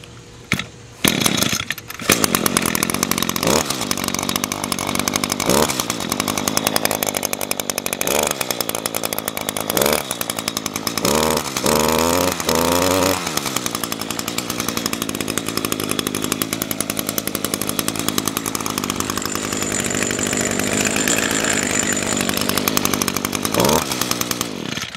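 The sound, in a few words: chainsaw running after cold start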